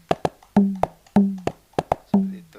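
Tam drum samples from the eHadrah hadrah app, mixing short slaps with ringing tam tones, played in a repeating rhythmic pattern of quick hits, clear and close with no speech.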